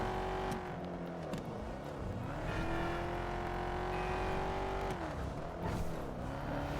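A car engine in GTA 5 revs and pulls steadily through gear changes while driving, a loud continuous drone that rises and dips in pitch with no talking over it.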